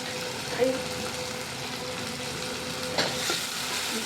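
Dal being stirred in a cooking pot with tomato and turmeric, giving a soft, steady scraping and bubbling texture with a couple of brief spoon knocks, heard close up.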